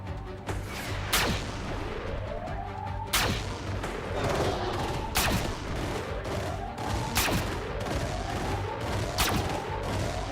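Gunfire from the video game Xenonauts 2, a steady series of heavy booming shots at regular intervals, each followed by a rising whine, over a constant low rumble.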